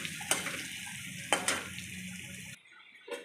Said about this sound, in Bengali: সব একসঙ্গে ভেজে নেব।